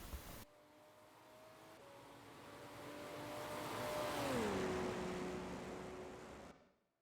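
Race car engines in a Le Mans sim racing qualifying session, a steady engine tone rising in loudness and then dropping in pitch as a car passes, with no talk.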